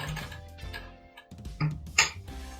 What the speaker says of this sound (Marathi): इथे पण आपल्याला एक डबल शिलाई करायचं आहे.